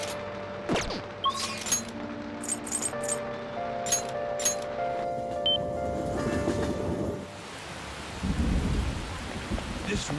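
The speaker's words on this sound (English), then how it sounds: "This rain is intense!" Heavy rain and thunder in the video game Persona 5 Royal: a steady downpour with rolling thunder rumbles and cracks, plus tonal game sounds layered over the storm.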